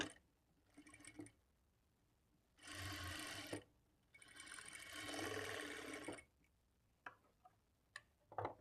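A sewing machine stitching the dots on a blouse front part runs in two bursts of a few seconds each, a fast close whir, with quiet clicks and handling sounds in the pauses between.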